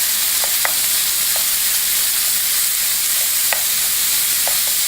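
Chorizo and potatoes frying in a pan give a steady, loud sizzle throughout, with a few light clicks from stirring and no talking.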